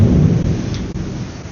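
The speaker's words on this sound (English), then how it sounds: "It's another rainy day here, so I apologize for any thunder and lightning and whatever you might see in the background." Heavy thunder rumbles low and loud over steady rain on a rainy day, a dense continuous roar with no voices.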